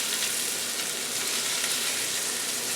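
Onions and sweet red peppers fry in a pan with a constant, dense sizzle that stays loud and close throughout, with no talking over it.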